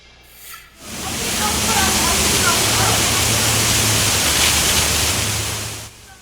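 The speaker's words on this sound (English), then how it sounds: "Water shooting into the air there in Pacific Beach." Water blasting upward from a broken roadside pipe in Pacific Beach after a car struck it, a loud steady hissing roar that starts abruptly and holds constant before cutting off near the end.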